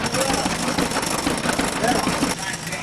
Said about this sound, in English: Now, she's never run a tractor before, Bob, and she does this perfectly